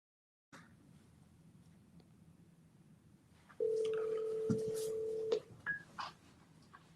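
Phone dialing tones from a voice-assistant call: a steady tone holds for about two seconds, then a few short beeps follow over a low background hum.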